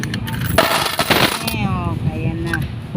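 Coins pour out of a freshly opened coin bank, a dense metallic clatter and jingle of loose change tumbling together up close, with a softer scattered rattle settling afterward.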